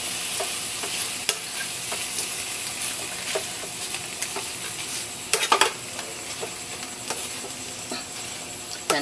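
Tofu and water spinach sizzle steadily in a pan while being stirred, with scattered scrapes and clinks of a utensil against the pan standing out over a continuous frying hiss.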